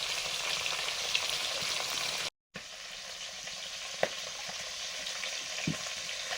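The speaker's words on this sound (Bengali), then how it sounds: "মাছগুলো ভেজে নিচ্ছি।" Tangra, parshe and bele fish fry in a pan with a loud, continuous sizzle and scattered small pops. The sound cuts out briefly partway through.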